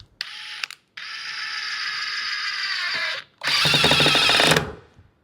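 A DeWalt DCF870 hydraulic impact driver runs at top speed driving screws, with a brief whirring burst followed by two longer, smooth, loud runs. The whine stays fairly steady, with no sharp hammering clatter.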